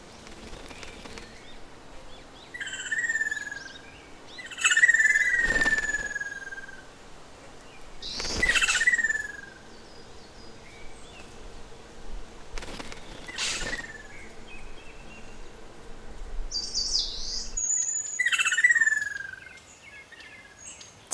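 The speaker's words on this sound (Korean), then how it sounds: "경계를 서고 있던 호반새가 경고음으로 둥지 안에 짝을 불러내서 함께 청설모 습격에 맞섭니다." A ruddy kingfisher gives warning calls near its nest at Jusanji pond, calling its mate out against a squirrel raid. The loud, descending whistled calls repeat every few seconds, with sharp knocking sounds in between.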